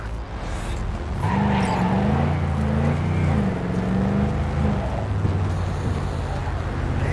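A car accelerates during a chase in Cyberpunk 2077, its engine rising and holding in a loud, close drone with shifting tones for several seconds, then easing off.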